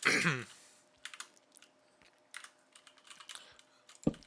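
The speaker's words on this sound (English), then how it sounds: "They get to hear me clear my throat a ton after eating." A person clears their throat loudly and close at the start after eating, then quieter keyboard typing clatters on, with another short throaty burst near the end.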